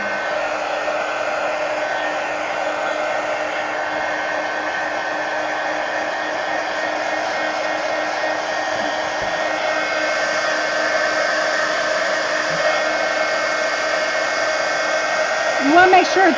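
A hair dryer blows steadily and loudly for the whole stretch, drying thick paint on the page of a mixed media art book, its even whine holding without a break until a little handling noise at the end.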